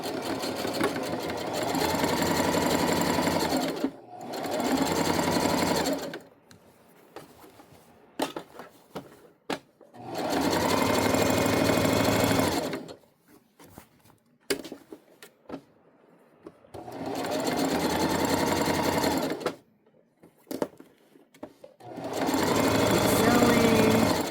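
Sewing machine backstitching a seam on an unlined tote bag, running in four loud whirring bursts of a few seconds each, separated by quieter pauses with small clicks and handling noises.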